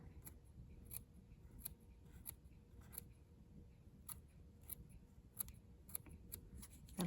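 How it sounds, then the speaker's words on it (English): Scissors snip fabric on the nose gusset of a sewn bunny rabbit, a quiet, irregular series of crisp little cuts close by with no talking. "with the scissors, I'm going to carefully trim the area, right this area here on the gusset"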